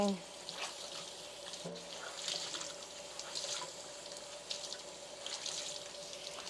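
Tap water runs into a kitchen sink while a container is rinsed, a soft steady splashing stream with small clinks, fairly quiet and continuous.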